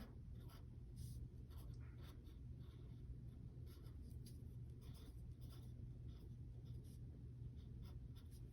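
Pencil drawing an owl on paper during a step-by-step landscape sketch, with continuous close scratching and scribbling strokes over a steady low hum, no talking.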